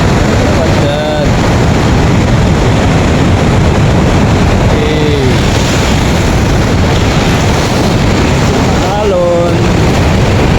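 Ocean surf rolls in at a beach in Bolinao, Philippines, as a loud, continuous roar with heavy wind buffeting the microphone; brief voices are heard over it.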